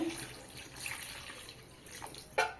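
Water poured into a pan of potato and pointed gourd curry after the spices are fried, a soft close splash and trickle ending in a brief louder gush, with no talk.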